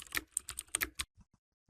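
Laptop keys tap quickly and close-up as a phone number is typed, a rapid cluster of clicks that thins out into a few final isolated taps, with no talk.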